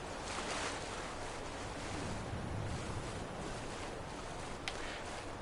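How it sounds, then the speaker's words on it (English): Steady rushing water and wind noise surround a character wading into icy water in Skyrim, a continuous, moderately loud wash with a brief splash near the end. "That's right, submerging myself in icy cold water."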